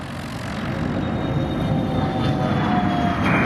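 A Challenger business jet takes off at Scottsdale Executive airport, its engines a loud, steady roar that builds gradually and stays near, with a thin rising whine above it and no talk.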